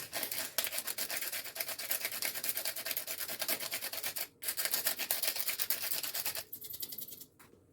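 Pink Himalayan salt ground in a hand grinder in a home kitchen while making beef bone broth: a steady, close, dry rasping crunch that runs for several seconds, breaks off briefly, then resumes and tapers.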